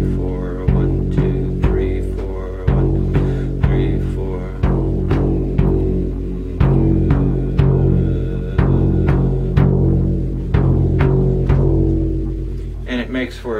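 A Native American shaman drum played in a repeating beat of three strikes followed by a rest, booming and resonant up close, with no voices.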